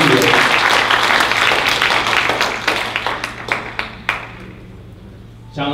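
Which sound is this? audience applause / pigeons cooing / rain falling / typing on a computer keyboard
audience applause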